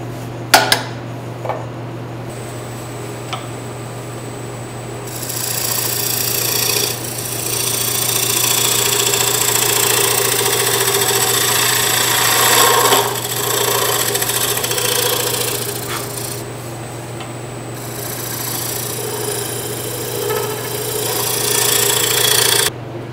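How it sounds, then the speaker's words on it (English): A wood lathe spins a bowl while a spear point scraper works toward the center, giving sustained scraping bursts of varying intensity over a steady motor hum, heard up close. "I'm going to work my way down a little closer to the center with this spear point scraper."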